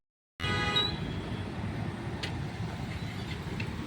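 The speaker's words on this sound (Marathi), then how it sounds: "असं ट्रॅफिक झालंय आहे जाम" Road traffic in a jam fills the scene with a steady, loud, broadband rumble of idling and crawling vehicles, with a brief horn-like tone near the start and a few faint higher sounds over the continuous drone.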